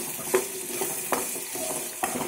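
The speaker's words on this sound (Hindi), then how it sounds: "अब हम इसमें डाल देंगे जो कटा हुआ एप्पल है हमारे पास। गैस का फ्लेम बिल्कुल कम पे है, लो फ्लेम पे पका रहे हैं हम इसको।" Chopped apple for a homemade chutney cooks in a pan over a low gas flame, giving a soft steady sizzle broken by a few distinct stirring scrapes.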